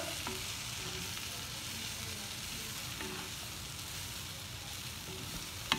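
Vegetables being stirred with masala in a pan for a Maggi masala-e-magic pasta, a steady scraping and soft sizzling that runs continuously, close and moderately loud, with no talking.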